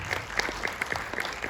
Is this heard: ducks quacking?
no